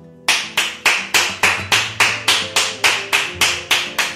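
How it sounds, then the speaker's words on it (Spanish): About fourteen sharp, evenly spaced hand claps ring out one after another in a steady rhythm, close and clear in a quiet home room. "hoy mi aplauso es para vosotros"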